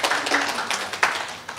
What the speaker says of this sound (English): Please give an applause to Professor Iwan.